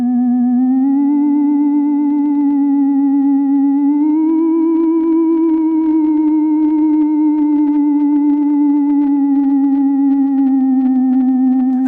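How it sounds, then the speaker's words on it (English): A Stylophone Theremin slider tone glides slowly up and down with steady vibrato, a buzzy sustained note played alone with slight crackle. "And we can listen just to the slider with vibrato."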